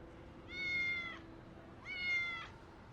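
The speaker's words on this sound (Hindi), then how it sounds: "ये यहाँ नया बिल्ली का बच्चा है।" A kitten meows twice, each cry drawn out and clear over a quiet room tone, with a short pause between them.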